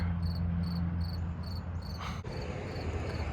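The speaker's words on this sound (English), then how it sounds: "there's still cricket sounds with me around" Steady, rhythmic cricket chirps in evenly spaced pulses over a constant low hum, with a brief rustle partway through.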